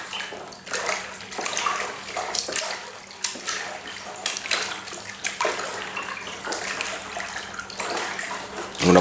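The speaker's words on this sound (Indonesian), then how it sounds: "Kita aduk terus." Homemade liquid laundry soap is stirred in a large batch with salt lumps dissolving, giving continuous sloshing, splashing liquid sounds up close with uneven surges throughout.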